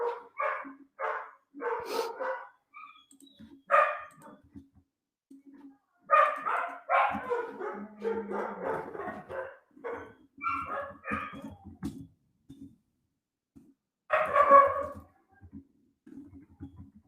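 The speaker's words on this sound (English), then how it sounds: "My dogs are going crazy in the background." Dogs barking excitedly in bursts of repeated yaps and yips, moderately close, with short quiet gaps between volleys and some whimpering.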